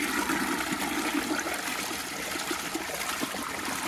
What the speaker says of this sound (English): I'm gonna give y'all a flush